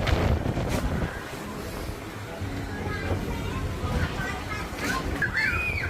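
Gusty wind buffets the microphone at an outdoor Chinese opera stage beside a shrine in a Bangkok market as rain begins to fall, a steady rushing roar under someone talking throughout.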